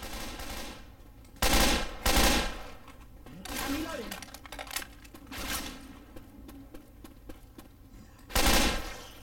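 Assault rifle fire in Left 4 Dead 2 at the Dark Carnival, several short loud bursts of automatic shots separated by quieter stretches, with players talking in between.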